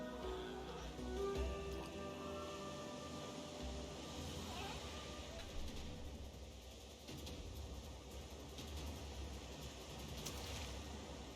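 A house cat meows a few times indoors on a day of pouring rain, short wavering cries sitting over a steady, loud mechanical hum that fills the background.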